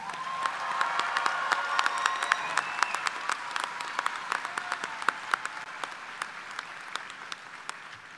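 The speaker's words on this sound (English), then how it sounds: "Let's give them a big round of applause." Sustained applause from a large audience at a university fall commencement ceremony, steady dense clapping with sharp individual claps standing out throughout, moderately loud and alone without talk.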